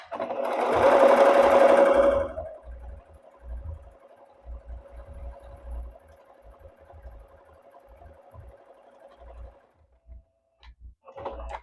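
A sewing machine runs a long continuous seam down a length of fabric, loud and steady for about two seconds, then a quieter hum with faint rhythmic ticks before stopping near the end.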